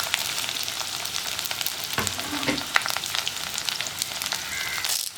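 Sliced onion, green chilli, dried red chilli and curry leaves frying in hot oil for a Kerala tomato spinach curry, with a steady loud sizzle and occasional scraping stirs and clinks.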